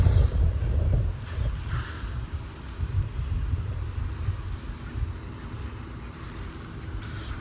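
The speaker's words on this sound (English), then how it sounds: "this wind is making it very difficult" Strong outdoor wind buffets the microphone with a continuous low rumble and gusty roar. It is loudest at the start and then settles into a steady blustery wash, with no clear talking.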